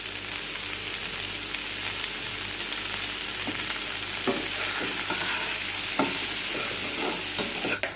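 Vegetables with onion, salt, turmeric and cumin powder fry steadily in a pan, a constant loud sizzle with occasional scraping stirs and soft clicks throughout.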